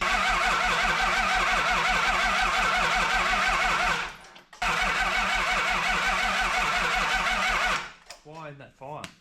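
Toyota 2H diesel engine on a wreck cranking over and over as it tries to start, a loud steady rhythmic churn that stops briefly, resumes, then cuts out near the end.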